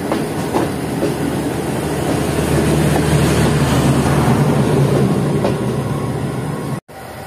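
The Shah Hussain Express rolls along the rails with a loud, continuous rumble and faint clickety-clack, heard from on board, with a brief dropout near the end.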